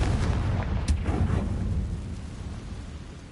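A Confringo fire spell explodes in Hogwarts Legacy: a deep booming blast with a sharp crack near its start, then a rumbling low roar that slowly fades.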